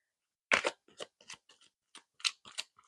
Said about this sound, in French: Je vais prendre d'autres cartes pour approfondir